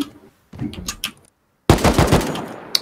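Video game gunfire in close, loud bursts: a short volley, a silent gap, then a sustained rapid rattle of shots, with no talk over it.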